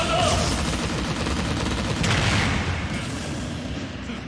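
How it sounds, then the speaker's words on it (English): Kazuya's final smash in Super Smash Bros. Ultimate fires a beam in a dense, roaring barrage of crackling blasts, loud and sustained with a brighter surge midway before easing off. "He starts by firing a horizontal beam in front of him"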